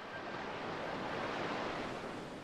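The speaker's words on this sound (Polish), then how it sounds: "Woda się przybliża. Nie było jej tu wcześniej." Rising water and waves wash in as a continuous, even, broadband rush of surf, steady and moderately loud with no pauses or voices.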